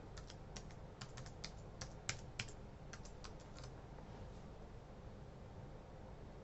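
Quiet computer keyboard typing as an email address and password are entered: a quick cluster of light key clicks in the first couple of seconds, then faint steady background hiss.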